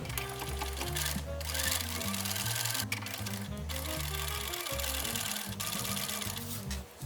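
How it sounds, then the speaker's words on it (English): A sewing machine stitches around the edges of a garment, a close, steady mechanical hum with rapid needle chatter that runs almost continuously, broken by a few brief pauses. "I'm going to sew around the edges here to lock it in place"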